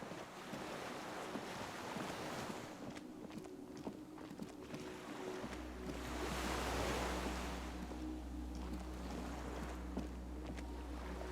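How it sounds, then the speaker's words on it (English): Waves lap against a skiff swaying by a dock in the video game Disco Elysium, a soft, steady wash of water with a low rumble joining partway through, faint and without voices. "The skiff is swaying on the waves by the dock."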